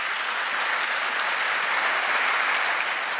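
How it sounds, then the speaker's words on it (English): An audience at a live debate event on Christianity applauds steadily, a dense and even wash of clapping for over three seconds with no voices standing out. "We got dueling crowds, man."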